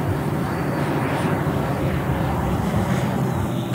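EDF electric ducted fan RC model jet with a JETFAN-120 PRO fan, 7 kW, 16s Li-Ion pack, about 11.3 kg, flying and climbing; a steady, loud broadband roar holds throughout with no speech.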